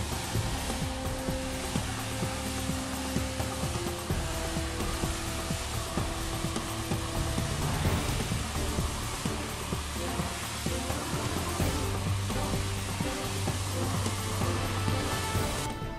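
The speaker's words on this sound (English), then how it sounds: "Turn on the compressed air and watch it convey." EXAIR Line Vac running on compressed air and conveying plastic media up toward a 17-foot ceiling, a steady loud airy rush with ongoing rattling of the pellets moving through it, heard alone.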